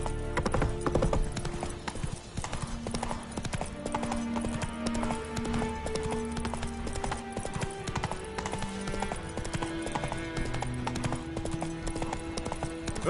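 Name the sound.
horse Roach's hooves in video game Witcher 3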